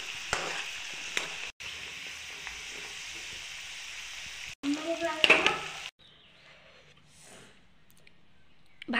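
Bakarwadi, a crisp Maharashtrian snack, frying in a pan: a loud, dense sizzle with stirring clicks runs for about six seconds, then drops off abruptly to a quiet background.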